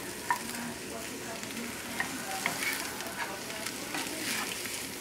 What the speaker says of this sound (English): I'm tossing everything in a pan that has a moderate flame under it.